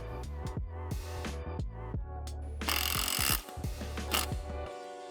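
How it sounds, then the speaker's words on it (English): Hand tools clatter and clink while bolts are fitted for a Porsche 944 seat install, with sharp metallic taps and a brief ratcheting buzz, close and moderately quiet. "Again, starting with hand tools, very important."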